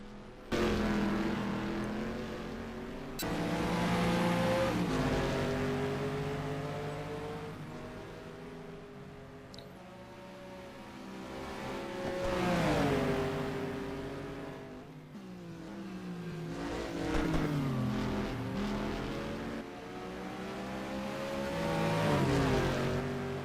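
Race cars, one an Aston Martin, run on the damp Nordschleife with engines rising and falling through the gears, rolling in and out in loud waves from close by, with no talk over them.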